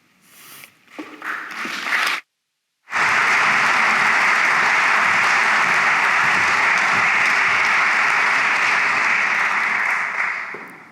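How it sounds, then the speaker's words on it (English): Audience applause at a public launch event for a postmodernism debate, starting with scattered claps, a brief pause, then a sustained, loud and even burst of clapping that fades slightly at the end. "I hope that clapping's not for me"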